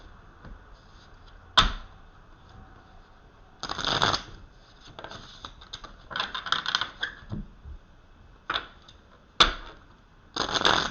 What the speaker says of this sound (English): Now I'm going to pull for each of the signs. I'm going to shuffle them using the Gilded Tarot,